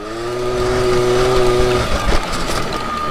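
A Rieju SR 50 Motard scooter revs at a steady high pitch as it drifts, then the engine note drops and a rough scrape of tires follows, close and loud.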